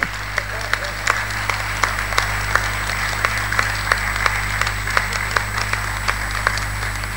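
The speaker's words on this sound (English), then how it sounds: "I'm going to have you clap for her in advance." An audience at a gala night of an arbitration annual conference in a Hilton hall in Abuja claps steadily; distinct, evenly spaced claps stand out over a constant low electrical hum and room murmur for several seconds.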